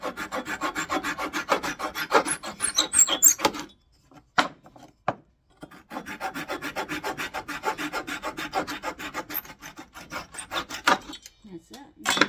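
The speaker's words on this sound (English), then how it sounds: "I'm going to do some sanding on these test tube flower pot" Sandpaper rubs back and forth on a wooden test tube flower pot, close up, in rapid rhythmic rasping strokes with a brief pause in the middle before sanding resumes.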